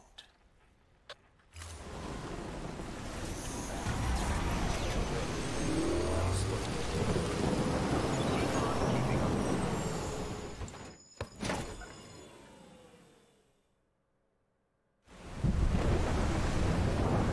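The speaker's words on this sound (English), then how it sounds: "Gotta love these storms." A thunderstorm in the Death Stranding video game roars as a dense wash of wind and rain, broken by a sharp crack before a brief near-silence, then the storm surges back loud.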